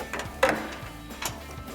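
A 21mm socket and wrench tightens a nut on a SuperLift 4-inch suspension lift kit being fitted to a Jeep Gladiator JT, giving a few soft, sparse mechanical clicks at low volume.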